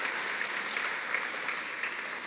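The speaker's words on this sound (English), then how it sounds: "Let's give her a round of applause." Theatre audience clapping in a steady, even round of applause, fairly distant and moderately quiet, with no voices over it.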